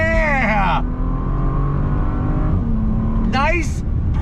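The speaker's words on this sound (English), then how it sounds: "Nice, purposeful shifts from that ZF 8-speed." Bentley Continental GT W12 accelerating hard in sport mode, its engine note climbing and dropping through quick ZF 8-speed upshifts, loud and close inside the cabin, with a voice talking over the engine.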